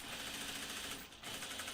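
A sewing machine topstitches an anorak, its needle hammering in a fast, even buzz close by, with a brief dip near the end before resuming at the same steady pace.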